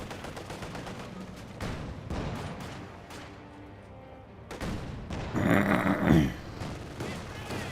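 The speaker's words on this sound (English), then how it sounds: "Two firing away with its autocannon." Autocannon fire in Company of Heroes 2, sharp bursts and scattered battle shots crackling across the scene, with a dense louder salvo near the end, under an intermittent commentator's voice.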